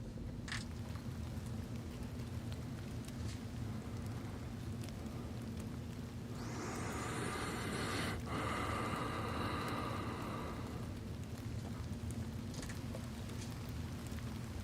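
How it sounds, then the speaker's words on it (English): Recorded rain nature sound played from a portable device: a steady wash of rainfall that thickens into a denser, louder downpour midway, with scattered drop ticks and no voices. "Here's the rain."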